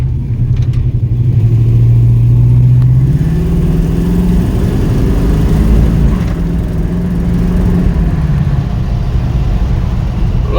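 A car engine with a distributor fault runs loudly and close, its pitch rising and falling unevenly as it revs and sputters without settling.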